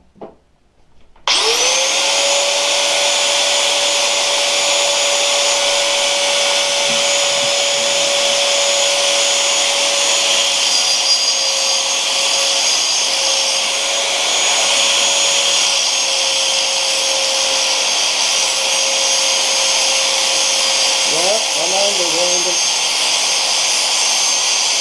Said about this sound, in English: So this is an angle grinder.